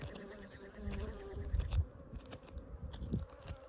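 Honeybees buzz around an opened hive built inside a water meter box, a steady close hum with a few louder swells as frames are handled.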